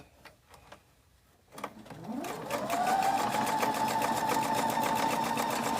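A sewing machine stitches quilt block seams for an Americana quilt. After a few faint knocks it starts up, quickly reaches speed and settles into a steady, fast, close mechanical whir.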